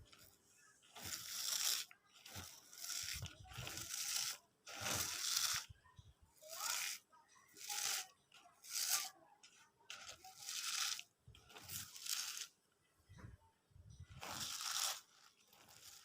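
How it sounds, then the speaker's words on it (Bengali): Sliced cabbage is worked by hand with a little salt, giving repeated soft crunching, squeezing and rustling bursts in a steady rhythm, close and fairly quiet. "এখন এখানে সামান্য পরিমাণ লবণ দিয়ে ভালোভাবে মেখে নেব।"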